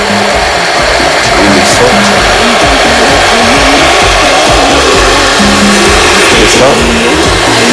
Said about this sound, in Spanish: es cuestión de licuar un poco más